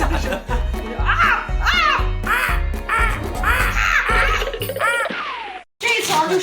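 A person imitating a goose call, a series of loud, harsh honking cries repeated in quick succession and close up, with voices around them.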